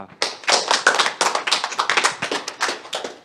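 Clapping as people applaud children being introduced on the bench during a sports-club locker room presentation, a burst of close, moderately loud handclaps with irregular rhythm and no talk over it.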